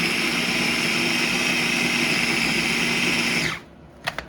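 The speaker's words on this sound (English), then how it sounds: "we'll mix it in with our flour, we'll process that" A food processor blending pasta dough with flour runs as a loud, steady whirring motor drone for several seconds, then spins down and stops, followed by a couple of light clicks.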